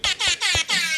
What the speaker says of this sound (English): I will air horn them in, because that's what I do.